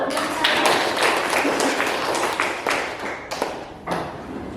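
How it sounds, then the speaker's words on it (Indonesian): Classroom pupils clapping their hands together, a fairly close, loud burst of many overlapping claps with uneven rhythm that thins out and trails into a few scattered claps near the end. "Kita tepuk tangan dulu."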